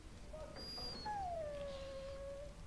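Barbas the war dog in Dragon Age: Origins gives a long, drawn-out whimpering howl that rises and then slowly falls, preceded by a couple of short yips, heard alone over quiet background.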